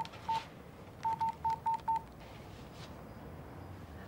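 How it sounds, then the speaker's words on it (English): Telephone keypad dialing, one DTMF tone followed by a quick run of five more evenly spaced beeps, clear and close over quiet room tone. "Okay, do you want to ring your dad and get him to pick you up? Could we just call TK?"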